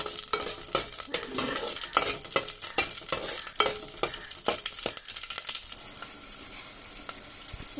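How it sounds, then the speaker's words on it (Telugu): Chopped green chillies fry in a little oil, giving a close, busy sizzle with frequent sharp spatter pops and utensil clicks that thin out toward the end; no voices. "అక్కడ కొంచెం ఆయిల్ వేసుకుని పచ్చిమిర్చిని వేయించుకుందామండి"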